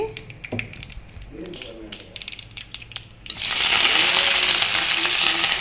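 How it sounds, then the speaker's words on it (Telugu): Mustard seeds burst and splutter in hot oil while a Telugu-style ivy gourd fry is started, with scattered crackles and clicks over faint talk, then a loud, dense sizzle takes over and holds steady. "ముందుగా నూనె పోసుకొని ఆవాలు వేసుకుందాం"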